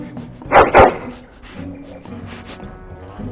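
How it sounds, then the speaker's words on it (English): A dog barks twice in quick succession in the video game Dragon Age: Origins, both loud and close, followed by a quieter stretch of low in-game ambience. "What's happening, dog? Why are you barking?"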